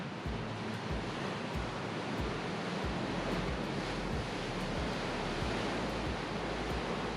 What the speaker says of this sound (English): Huge waves coming through in there. They're just massive.